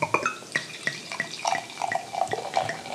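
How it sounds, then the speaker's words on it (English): Trillium Brewing Company beer, a third-anniversary brew called Dialed In, pours into a glass in a burbling, splashing stream with small gurgles and drips over about three seconds, close and alone. "We're going to make sure we get a nice full pour on this."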